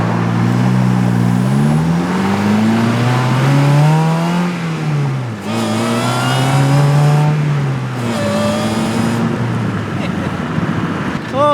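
A DF Goblin kit car's engine revs hard on the road, pitch climbing through the gears with brief drops at each shift, loud and close from inside the cabin, the steady drone of driving beneath it.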